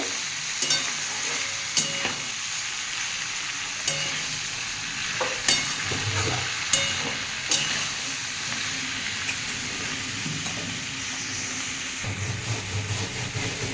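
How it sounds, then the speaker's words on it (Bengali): Ripe Malabar spinach fruits frying in a pan, a steady sizzle and hiss with scattered clicks and scrapes of stirring, close and moderately loud. "এবার বন্ধুরা আমি এই পাকা পুঁইগুলো দিয়ে দেবো দিয়ে এটা দিয়ে আমি ভাজবো"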